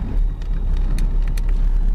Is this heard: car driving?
yes